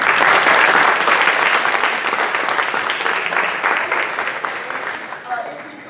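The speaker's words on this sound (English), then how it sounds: "So if we could give them a final round of applause." A room full of people clapping loudly at an AAUW meeting, steady and sustained applause that gradually tapers off toward the end.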